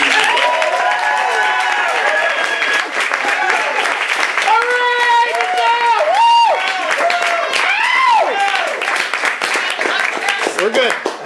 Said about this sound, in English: Let's give a big round of applause for Michelle Conrad.